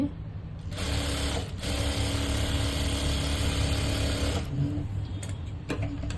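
A sewing machine stitching the lining and main fabric of a blouse, running in a steady close whirring burst for several seconds, then stopping, with a few faint clicks afterward.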